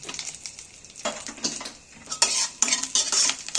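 Curry leaves and a pinch of chili powder fry in hot oil as a spoon stirs them, producing close, bursty scraping and sizzling in irregular strokes with no talk.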